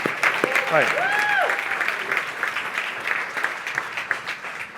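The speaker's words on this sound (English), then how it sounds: "Can we give them a big round of applause?" An audience applauding at a talk, steady close clapping with a few whoops rising over it, gradually easing off.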